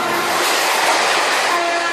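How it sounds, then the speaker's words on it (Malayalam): A train rolls past close by with its horn sounding loud and sustained over the rumble of the cars. "അതേത് ട്രെയിൻ പോയത്?"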